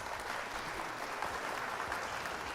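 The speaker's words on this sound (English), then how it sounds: "You guys deserve a round of applause." Faint, steady applause sound effect from a crowd, a dense patter of clapping that holds at a constant level throughout.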